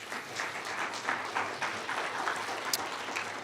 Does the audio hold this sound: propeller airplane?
no